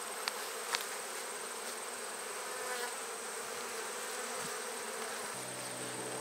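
Honey bees buzzing steadily inside a newly opened hive during a brood check, a dense continuous hum close by, with a couple of faint clicks near the start.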